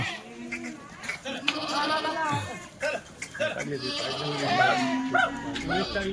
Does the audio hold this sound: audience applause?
no